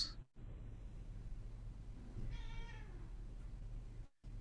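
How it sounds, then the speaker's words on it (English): A cat meows once, in a drawn-out, moderately loud cry that rises over a steady background hum. A quiet break occurs earlier and another near the end, with no talking. "The cat disapproves."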